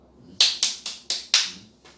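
Five sharp, close hand claps in an uneven rhythm, followed by a sixth faint one, each a crisp slap with quick decay in a quiet room.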